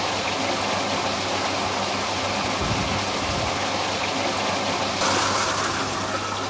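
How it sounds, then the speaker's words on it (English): Water flows fast down a hydraulic flume channel in a demonstration, a continuous loud rushing and gushing with no pauses. "the flow is travelling fairly fast down this channel"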